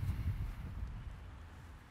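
Wind blowing outdoors and buffeting the microphone, a low, rumbling gusty roar that is strongest at first and then eases slightly.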